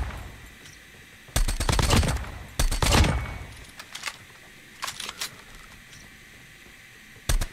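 Man-O-War rifle gunfire in a ranked match of a shooting video game comes in several loud, rapid bursts, with shorter bursts and single shots between quieter stretches.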